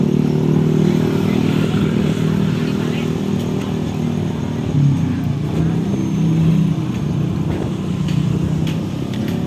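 Motorcycles from many motorbike clubs crowd a beach at Karang Bokor, Sawarna, Banten, giving a steady, loud engine rumble with occasional revving, heard under nearby talk.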